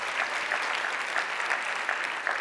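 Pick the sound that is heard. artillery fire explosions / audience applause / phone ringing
audience applause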